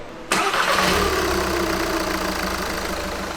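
A car engine cranking and catching abruptly, then settling into a loud, slightly uneven idle with a rough, rattling tremble while cold due to worn spark plugs, heard close without talk.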